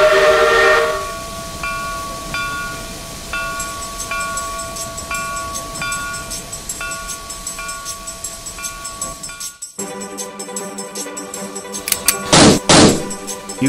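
In a video game, a steam train sounds a short whistle as it departs, then chugs in a steady rhythm before loud bursts of hissing steam near the end.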